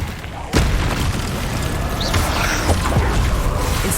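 Incendio fire spell cast in Hogwarts Legacy combat: a sudden loud whooshing boom about half a second in, followed by sustained roaring fire and battle noise.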